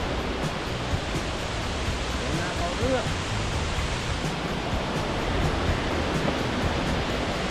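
Sri Dit waterfall in Phetchabun, Thailand, a steady loud rushing roar of falling water filling the whole scene, with a voice speaking briefly over it.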